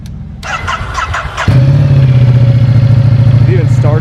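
A Ducati Diavel 1260 Lamborghini motorcycle cranks briefly, then fires and settles into a steady, loud, throbbing idle up close, with people's voices over the starter at first.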